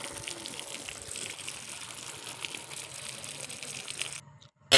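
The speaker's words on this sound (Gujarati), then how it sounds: "પછી બધે છાંટી દીધું પાણી." Water splashes and gushes steadily while a temple is washed during Dhuleti, a continuous hissing spray that cuts out abruptly near the end.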